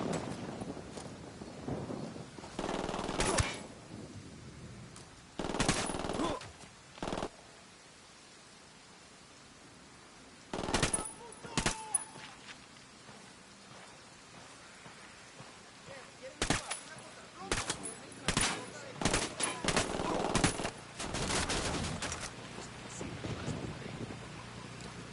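Bursts of machine gun fire from the Ghost Recon video game come in irregular clusters over a noisy background, some volleys loud and sharp, with gaps of quieter hiss between them.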